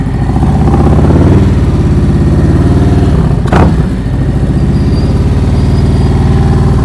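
Motorcycle engine running loud and close as the bike rolls into a slow, smooth stop, a steady low drone with a brief rise in the middle before settling.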